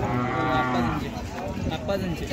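A Khillar bull at the Sangola cattle market gives one long, loud, close moo, then a shorter lowing call, with market chatter faint in the background.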